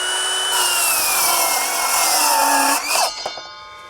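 Cordless Metabo HPT 18V MultiVolt 7-1/4 inch circular saw making a standard cut through wood: a high whining motor tone bites into the board for nearly three seconds, then the blade breaks free and winds down with a few clunks.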